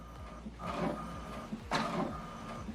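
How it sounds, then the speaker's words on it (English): An HP Deskjet All-in-One inkjet printer runs close by, printing an alignment page, its print head sweeping back and forth in repeated whirring passes over a steady mechanical hum. "So what it's doing now is printing the alignment."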